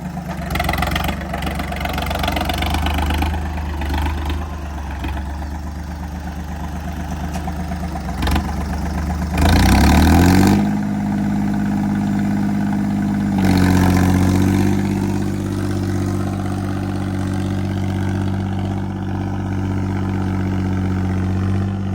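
A tractor engine fitted with a Holland silencer idles steadily with a low, chugging rumble, briefly revving up twice before settling back to a steady idle.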